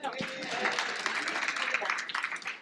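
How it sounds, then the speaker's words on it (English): A live audience claps and cheers at a holistic health talk, a short dense burst of applause at close range with voices mixed in. "So we can clap for that, y'all."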